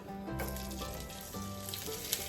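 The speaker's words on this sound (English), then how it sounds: "our butter has gone foamy, and we got a little bit of sizzle on it" Close, steady sizzle of foamy butter in a skillet, a continuous hiss with light crackles, with some faint background tones.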